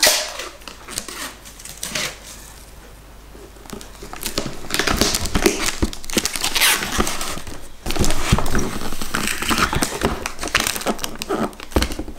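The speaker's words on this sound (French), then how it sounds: "Je vais remettre un scotch de ce côté-là aussi." Packing tape screeches and crackles as it is pulled off the roll and pressed onto a parcel, in several long tearing bursts with rustling handling in between.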